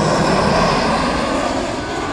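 Airliner with Rolls-Royce engines landing at Rome Fiumicino, a steady, loud broadband engine roar filling the whole stretch with no pauses and no voices.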